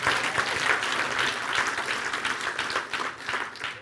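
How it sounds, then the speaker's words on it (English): An audience at a tech launch event gives a sustained, fairly close round of applause, with dense clapping throughout. "let's give them a round of applause"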